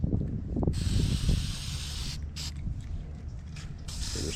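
Silicone lubricant sprays from an aerosol can onto a homemade pole in a garage, a loud close hiss in several bursts of differing length. Low handling rumble runs underneath.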